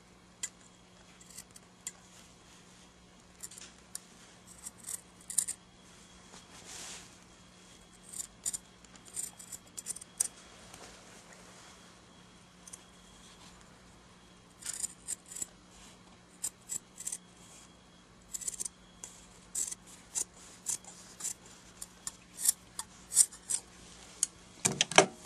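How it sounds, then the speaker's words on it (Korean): Scissors snip through fabric beside a sewing machine, producing sparse, quiet clicking cuts that gather into quicker, sharper bursts toward the end, close by with no talking. "이렇게 하신 다음 가위로 자르셔도 괜찮습니다."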